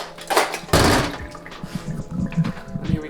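Water pours from a new water filter into a glass in a sudden loud gush, with clunks and splashes around it; close and brief.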